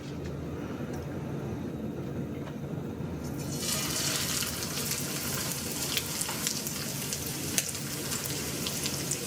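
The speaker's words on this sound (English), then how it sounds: "now I'm just gonna start frying up these cutlets" Chicken cutlets fry in hot oil in a pan. A dense crackling sizzle swells in after a few quiet seconds and stays loud and steady to the end.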